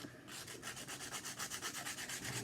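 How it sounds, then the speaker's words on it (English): Quick rhythmic rasping strokes as pumpkin seeds are sanded back and forth, steady and close. "I'm not going to sit here and keep sanding seeds"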